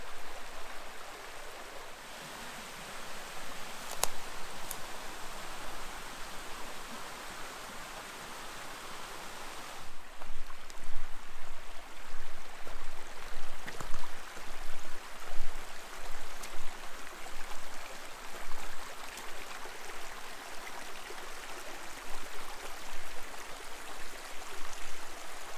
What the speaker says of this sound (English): Another creek running in for Long Creek.